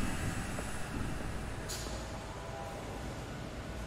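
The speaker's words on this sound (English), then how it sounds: "There's a train coming." Train rumbling past in Batman: The Telltale Series, a steady broad roar of wheels and cars with a brief squeal midway, continuous and fairly close, with no voices over it.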